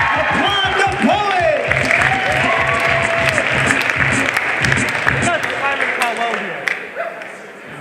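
A school poetry slam audience of ninth graders applauds a poet with sustained, loud clapping and whoops, fading slightly toward the end.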